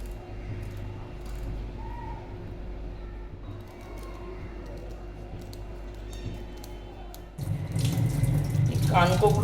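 A kitchen tap runs water over tilapia fish being washed, with a soft steady flow that swells to a louder gush near the end, and a voice is briefly heard.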